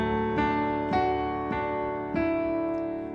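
Piano notes ring out in a repeating figure, with several sustained chord strikes at even intervals and no voices.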